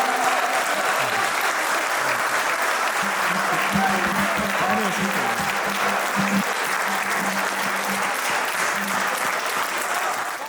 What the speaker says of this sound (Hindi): भरपूर तालियों में दिलावर भाई का इस्तकबाल कीजिए